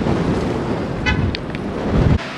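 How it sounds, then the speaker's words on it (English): Strong wind blows outdoors against the microphone in open country near mountains, a steady loud rush with faint brief tones and no talking. "It's so windy"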